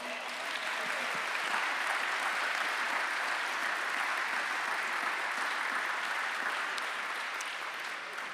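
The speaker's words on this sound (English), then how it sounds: "Can you give the three of them another round of applause?" Sustained applause from a gala audience, a dense steady wash of clapping that holds at even loudness for several seconds.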